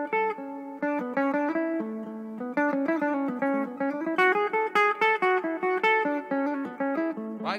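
A bright, plucked instrumental melody steps through a major scale, each note struck clearly in a steady, even rhythm with no talking.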